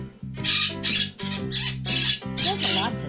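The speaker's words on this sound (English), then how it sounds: "the bird is screaming, so it's going to be picked up on my microphone" A pet bird screams in a room during a grooming podcast, with repeated harsh, piercing squawks in a steady rhythm over a low hum, loud and close to the microphone.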